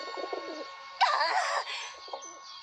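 Pigeons coo outside a front door in a short cartoon scene, soft repeated throaty calls with a louder burst of fluttering, busy bird sounds in the middle.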